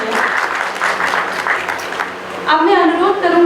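Audience clapping at a Hindi poetry gathering (kavi sammelan) held on a university campus, steady applause filling the room under a voice, which continues over the clapping until the final second.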